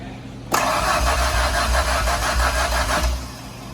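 An old, free truck's engine cranks briefly and then catches, firing into a loud, rough, uneven idle for about three seconds before the sound drops away, heard close up.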